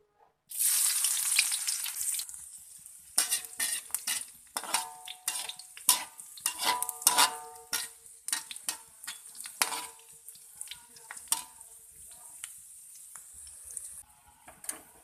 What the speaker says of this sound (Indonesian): Kita goreng dahulu bawang merah irisnya